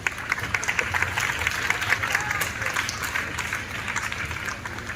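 Steady applause from an audience at a school event in Gorakhpur welcoming a political science professor, dense continuous clapping filling the room, with a voice speaking over it.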